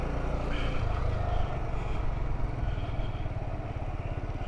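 A Kawasaki Z125 Pro motorcycle engine runs steadily close by during wheelie practice, a buzzing, throbbing single-cylinder drone held at fairly constant revs with no clear surges, loud and continuous throughout.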